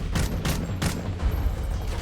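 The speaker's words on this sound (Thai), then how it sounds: "ยิงยากจริง AK นี่" Bursts of AK rifle fire in Call of Duty: Modern Warfare 3, about three sharp volleys in quick succession, loud and close over a steady rumble of battle noise, with no talking.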